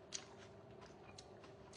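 Someone bites and chews a crunchy, slightly sweet vegetable at a Chinese fondue dinner. The chewing is faint and close, with a soft crunch near the start and steady mouth sounds after it.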